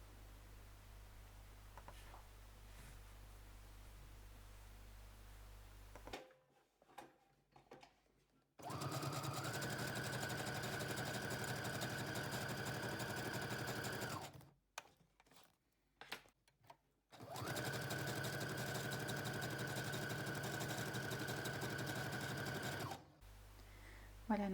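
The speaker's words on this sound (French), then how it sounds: "on va coudre ici sur les tours et laisser dépasser pour faire comme un petit marque-page" A sewing machine stitches paper pages for a junk journal, running in two long, loud bursts of rapid mechanical whirring separated by short pauses and handling noise, after a quieter stretch of faint voice at the start.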